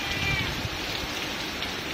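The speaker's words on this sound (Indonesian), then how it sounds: "Ini hujannya campur angin, luar biasa." Heavy rain driven by strong wind in Karangsong, Indramayu, pours down as a dense, unbroken hiss, loud and close throughout the brief stretch, with no voices.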